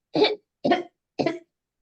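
A voice imitates three short, polite coughs, evenly spaced and close, with silence between them.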